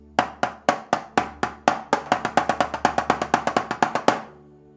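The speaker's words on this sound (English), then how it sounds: "Now let's learn the double stroke roll." A drum double stroke roll played alone: about two dozen sharp, evenly paced hits that start as spaced pairs and tighten into a fast continuous roll, loud and close.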